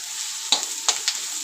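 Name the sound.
stirring onions frying on high flame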